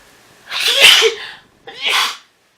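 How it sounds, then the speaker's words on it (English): Two sneezes close together, the first bigger and more explosive, the second shorter, both loud and near with no talking. "I can feel a sneeze coming on."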